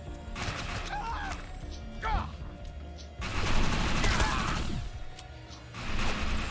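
Gunfire in the Defiance online shooter comes in rapid bursts and sustained volleys with crashes and mechanical clatter, moderately loud with short lulls between exchanges.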